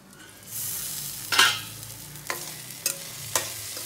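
Tomato softening in a pan for a bhindi masala okra curry with onion, heard as a low steady simmer broken by a few sharp scraping stirs, close by and with no talking.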